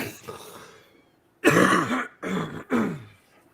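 A person coughs and clears their throat close by, a few harsh rough bursts in quick succession.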